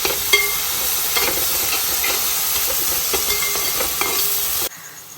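Green chillies and curry leaves sizzle in hot oil with onions for a crab roast, a steady loud frying hiss with scraping stirs throughout, cutting off abruptly near the end.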